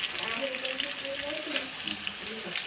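Pakoras frying in hot oil, a steady close sizzle and crackle throughout, with a voice talking over it.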